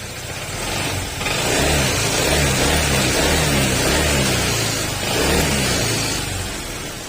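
A Honda scooter engine revs hard and close, a rough, rattling roar from a worn slider piece that holds steady for several seconds with two brief dips in between.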